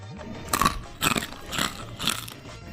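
Crunchy bites into homemade murukku, a crisp fried Diwali snack, come as several separate crunching bursts with chewing between them, close and fairly loud, with no talk.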